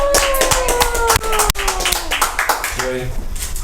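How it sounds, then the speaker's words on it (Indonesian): Hands clapping in applause during a podcast, a quick run of close, sharp claps that fade out, with sustained tones and talk mixed in. "Tepuk tangan buat ST."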